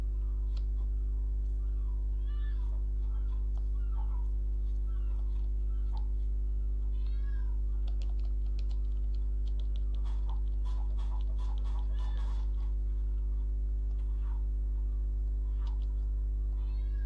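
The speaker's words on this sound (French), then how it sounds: "c'est lui qui sauve tous les chats, parce qu'il y a plusieurs chats dans le jeu" Several cats meow repeatedly in the LEGO City Undercover video game, short mewing calls scattered over a steady droning game background, moderately close and without speech.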